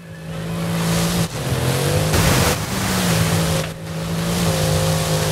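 Racing car engines roar in the Forza Horizon 5 video game, a loud, steady drone with rising and falling revs and brief dips at gear shifts, continuous and close, with no talking.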